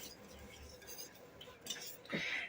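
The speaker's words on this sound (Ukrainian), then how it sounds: "І продовжую помішувати, допоки розтане масло." Utensil stirring custard in a pot on the stove as butter melts into it, with faint scraping and light clinks against the pan, quiet and close, ending in a brief louder clink.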